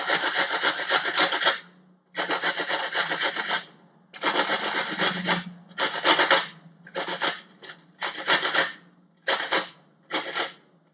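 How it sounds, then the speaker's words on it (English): A single amla (Indian gooseberry) is rubbed against a grater in loud, close, rasping strokes, coming in repeated bursts separated by brief pauses. "so I'll grate it because it's just 1 amla and it won't grind properly"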